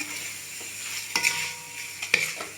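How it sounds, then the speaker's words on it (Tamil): Okra frying in masala, stirred slowly over low heat, gives a steady sizzle broken by a few distinct scraping strokes of the spoon in the pan, close and fairly loud, with no voices. "சிம்மில் வச்சு மெதுவாக கலக்குங்க"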